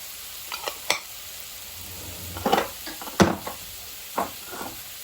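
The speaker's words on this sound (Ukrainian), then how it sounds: "Вимішую просто це все" Garlic being stirred into a homemade shawarma sauce, with a few soft, scattered scraping and clinking touches of a spoon in a bowl over a quiet background.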